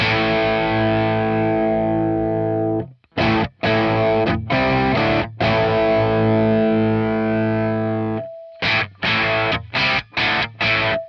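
Electric guitar through a Boss DS-1 distortion pedal with the treble boosted, playing long sustained distorted chords that ring out, then bursts of short choppy stabs, loud and alone.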